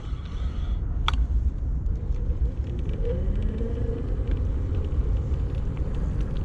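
A Onebot S7 folding e-bike pulls away from a stop on throttle alone, with a steady broad road and wind rumble and a faint motor whine that rises midway.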